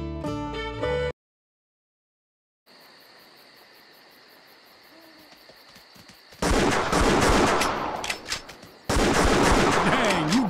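Gunfire at a deer in the Wii hunting game Buck Fever: a quiet stretch of insect-like ambience gives way to loud, dense blasts of game audio, alone with no talk.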